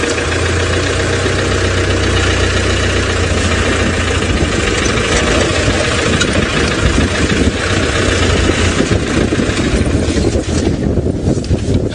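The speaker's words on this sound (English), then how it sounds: "Let me just turn the vehicle slightly." A safari vehicle's engine runs loud and close with a steady rumbling idle and vibration as the vehicle turns slightly, continuous throughout.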